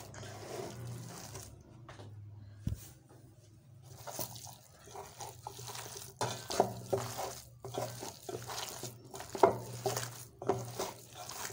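Kebab mixture with garam masala being stirred and mixed by hand in a bowl, giving soft irregular squelching and scraping strokes with occasional light clinks of utensils, fairly quiet and close, no talking.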